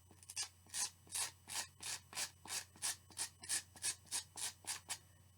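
A shoe rougher scuffs the sole of a canvas ballet flat in a dozen quick, even strokes. Each stroke is a close, dry rasping rub in a steady back-and-forth rhythm.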